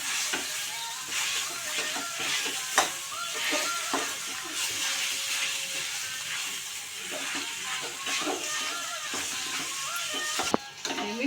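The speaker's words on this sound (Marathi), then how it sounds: "मिक्स करून घ्यायचं." A potato mixture is stirred in a pan as it sizzles softly, with scraping strokes and occasional sharp clinks of the utensil against the pan, and no voices.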